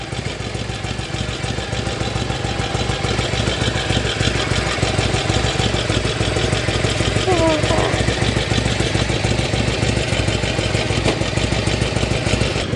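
A Harley-Davidson FLHTCU Ultra motorcycle engine idles steadily and loudly nearby with a continuous low throbbing rumble, while people talk over it.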